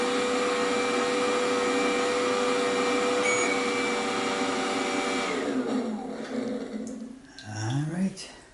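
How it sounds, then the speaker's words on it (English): Warm air dryer of a Daelim bidet seat running as a steady whirring blower with a whine, then winding down and cutting off near the end, where a voice briefly speaks. "dryer function."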